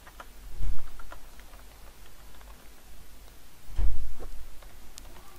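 A computer keyboard is tapped while typing in Microsoft Word, producing light, scattered clicky keystrokes at an uneven pace, with a couple of low thumps.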